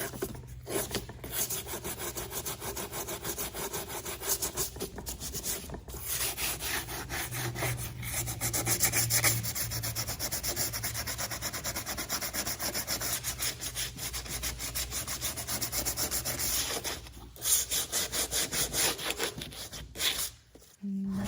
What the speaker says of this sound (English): So now I'll take the sandpaper and make sure I have a nice clean edge.